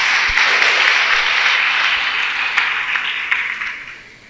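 A church congregation at a special Mass in Jagadgirigutta, Hyderabad, bursts into sustained applause, a dense crowd of clapping hands that holds steady and then slowly tapers toward the end.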